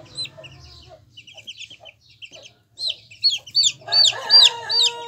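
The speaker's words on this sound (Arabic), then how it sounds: "ده برضو ديك معانا اهو" A young rooster attempts several short, raspy, unfinished crows in quick succession, close by, after quieter clucking and chick peeping among chickens.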